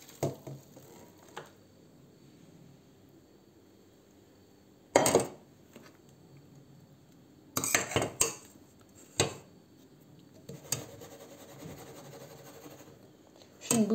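Blended bone broth is emptied into a baking tray in a home kitchen, with sparse, sharp clinks and scrapes of utensils and cookware breaking a quiet background in irregular bursts.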